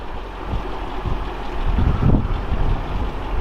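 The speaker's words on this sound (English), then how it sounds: "this is very windy here" Strong wind buffets the microphone outdoors beside a parked coupe, a loud, continuous low rumble that swells a little in the middle with no pauses and no talk.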